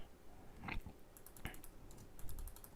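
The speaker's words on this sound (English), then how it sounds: "I am a little heavy on my keyboard" Heavy-handed typing on a computer keyboard about nine years old: scattered soft key clicks and a few louder thumps, quiet and close over low room noise, no speech.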